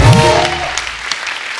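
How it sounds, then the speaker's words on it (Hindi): Studio audience applause on a Hindi comedy talk show, a loud burst of clapping that starts strong and thins out as it fades over under two seconds. "एक बार सर के लिए जोर बड़ा तालियां हो जाए।"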